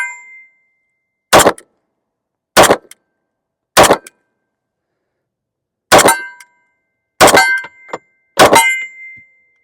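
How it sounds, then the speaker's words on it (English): A Ruger P90 pistol fires .45 ACP rounds: six sharp, loud shots, the first three evenly spaced, then a pause and three more in quicker succession, each ending with a brief ringing decay and no voices. "we're just going to see how this old girl shoots"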